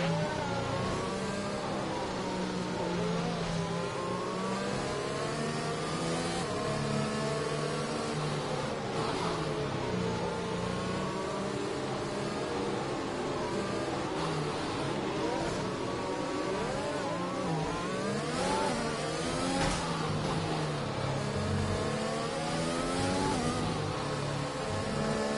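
Racing cars accelerate together behind a safety car during a race, their engines a steady, dense roar of overlapping revving that rises and shifts throughout, continuous and fairly loud with no talking.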